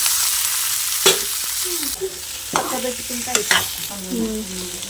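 Boiled potatoes go into a pan of frying potato curry and get stirred, with scraping spoon strokes and soft thuds over a low, steady sizzle, close by and fairly quiet, without talk.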